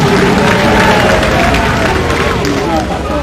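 Assembly crowd at an official bus handover ceremony for students in the DRC, a dense, loud roar of clapping mixed with crowd murmur and cheering throughout.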